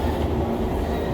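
Inside Los Angeles Metro's Red Line subway at Hollywood and Highland station, a train gives off a steady, loud low rumble with a constant roar of wheels and motors. No voices are heard.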